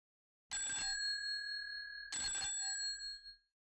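A doorbell rings twice in quick succession, two clear, bright metallic chimes with ringing overtones that fade out, heard alone against silence.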